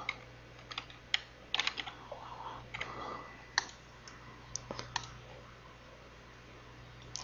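Typing on a computer keyboard to sign in to a Joomla 1.7 back end, with scattered bursts of quiet, close key clicks and brief pauses over a steady low hum.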